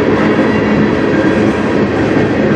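A CN train passes close by, with a loud, steady rumble and rolling wheel noise filling the whole stretch without pause.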